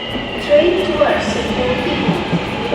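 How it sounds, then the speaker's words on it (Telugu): A Rapid KL metro train in Malaysia rumbles and hums nearby with faint squeals and clatter as it pulls into the station, with people talking around it. "ఒక ట్రైన్ అయితే వచ్చింది మెట్రో ట్రైన్"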